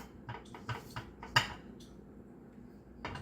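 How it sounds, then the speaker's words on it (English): Plantain pancake batter stirred with a wooden spoon in a bowl: a quiet series of light knocks and scrapes against the bowl, one sharper clack in the middle, then a pause and a few more taps. "So you're getting your wooden spoon into your batter, using your spatula, just get all of the ingredients"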